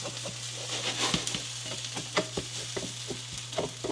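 Hash browns frying in a HexClad pan, a close, steady sizzle broken by frequent sharp scrapes and taps as a utensil stirs and nudges the potatoes.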